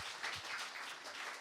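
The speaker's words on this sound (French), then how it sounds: "On applaudit Amélie, Jennifer." Applause from a congregation at an Easter church service, a steady wash of many hands clapping at moderate distance, continuous through the moment with no voices standing out.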